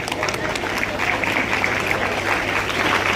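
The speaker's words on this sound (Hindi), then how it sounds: "राजेंद्र यादव जी, जोरदार ताली से स्वागत कीजिएगा" Applause from a crowd at a school merit-award ceremony greeting a guest speaker, a steady wash of clapping that fills the whole moment with voices mixed in.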